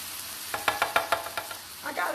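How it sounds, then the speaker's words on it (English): A spoon stirs roasted garlic Better Than Bouillon into food cooking in a pan, giving a short run of scraping strokes over a soft sizzle that ends in a brief rustle. "Let me stir this around a little bit"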